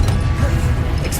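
Incendio fire spell cast in the Hogwarts Legacy video game, a short, loud, dense burst with a low rumbling crash, filling the whole moment.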